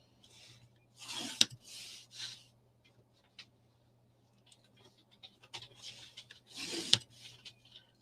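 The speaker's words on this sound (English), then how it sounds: "I'm going to just draw a line" Pencil or pen drawing lines on paper, with soft scratchy rubbing strokes in a few short bursts, quiet and close, alone without talk.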